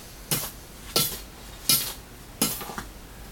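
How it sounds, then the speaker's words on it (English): Shino glaze powder gets a dry mix in four even, gritty scrapes, each a short rasping swish with a pause between, close and clear with no talking. "I'm giving it a bit of a dry mix, and could be a bit of dust"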